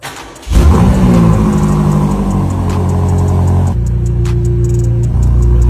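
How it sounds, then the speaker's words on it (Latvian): A BMW M5 engine fires up after a brief crank and settles into a loud, steady idle with a deep rumbling tone, then drops slightly in pitch partway through, heard close with no talking. "Pielēžam autiņu, paklausimies."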